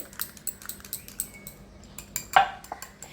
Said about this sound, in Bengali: আর একটু আমি ব্লেন্ড করি হাতে তুলে